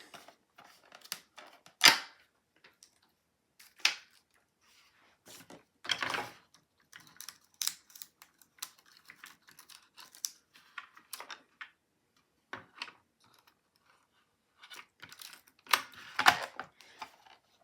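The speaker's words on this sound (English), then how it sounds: "we're just going to put tape all along the side of that" A tape runner lays adhesive tape along a cardstock mini lunch bag, giving sparse, sharp clicks and short rasping strokes in irregular bursts, close and fairly quiet, with stretches of near silence between them.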